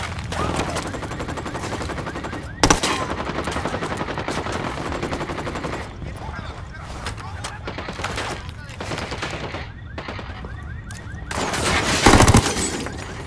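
Gunfire from the video game Ghost Recon Wildlands, with sustained machine gun bursts and sharp single shots rolling on for several seconds, loud and dense, building to a heavy crescendo near the end, with some voices underneath.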